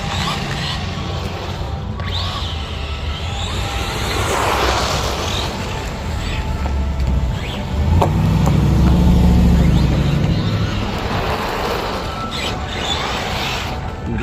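An Arrma Typhon RC car, converted from 3S to run on a 4S battery, drives with a steady rough motor whine and scuffing of tyres over ground, swelling louder in bursts near the middle.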